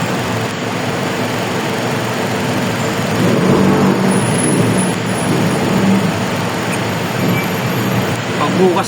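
Dense roadway traffic noise in a heavy jam, a steady, loud broadband rumble of car and bus engines throughout, swelling slightly midway, with no clear speech over it.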